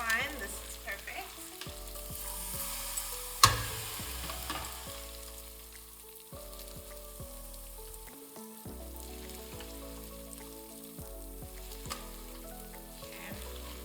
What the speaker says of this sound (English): Okay, add some tomato paste. Stir, stir, stir.